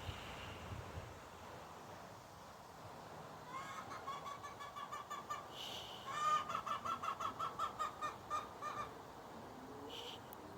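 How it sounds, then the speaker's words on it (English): Chickens squawk outdoors in a rapid run of repeated clucks and cackles that rises mid-clip into a loud rhythmic burst, then fades, with wind and a soft background hiss. "chickens are complaining about something or squawking about something."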